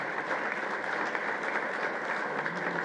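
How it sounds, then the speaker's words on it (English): A ceremony audience gives a steady round of applause at a medical equipment distribution event, dense even clapping sustained throughout at moderate level with no talk over it. "Please give them a round of applause."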